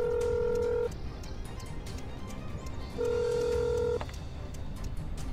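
Dialing tones from a phone in the video game Accident: The Pilot, two bursts of steady beeping tones, the first at the start and the second about three seconds later, over a constant low background rumble.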